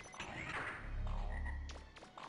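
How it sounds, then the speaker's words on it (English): Frog enemies in the video game Megaman Legends 2 let out a loud, low, throaty croak. It swells and fades over about two seconds, mixed with game sound effects. "Our friends again, the frogs."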